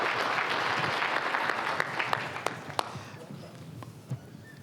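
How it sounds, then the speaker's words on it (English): An audience at a startup pitch event claps warmly for a speaker being welcomed to the stage, a dense burst of applause with a few sharp individual claps that tapers off after a few seconds. "please give a big round of applause to our next hatchling, Gacy Amon"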